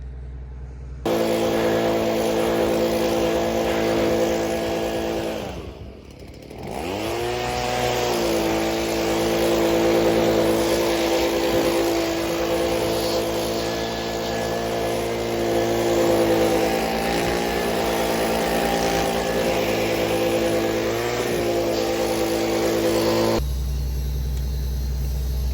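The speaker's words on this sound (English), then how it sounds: "get the leaf blower, blow this off." Gas leaf blower clearing leftover seed off a planter's seed bag lift during spring planting; a loud, steady, close engine roar with a droning tone that dips briefly, then holds before cutting off near the end.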